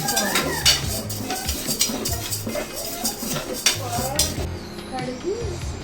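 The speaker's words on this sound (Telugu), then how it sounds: "ఇప్పుడు ముందుగా కందిపప్పు వేపుకోవాలి" Toor dal is dry-roasted in a metal pan, with repeated scraping stirs and clinks of a spoon against the pan, close and moderately loud, over a faint sizzle.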